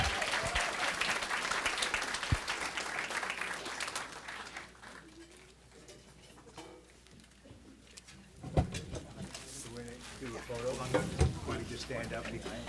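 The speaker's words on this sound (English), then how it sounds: "Have another round of applause for our students for Yorba High School Jazz Combo." A crowd at a school board meeting applauds loudly for a high school jazz combo, the clapping fading in the middle before swelling again, with some voices mixed in.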